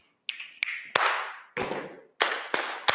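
A group slaps their thighs in a rhythm exercise, making sharp, close slapping hits in short clustered bursts with brief pauses between. No one speaks.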